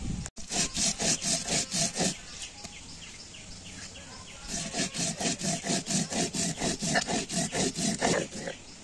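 Cumin, coriander, ginger and garlic are ground together into a paste with steady, rhythmic back-and-forth scraping strokes of stone on stone. The strokes come close and loud, with a brief pause in the middle.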